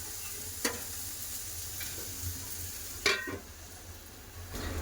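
Soft, steady sizzling of pumpkin slices frying in a pan, broken by a few sharp clinks and scrapes of a utensil.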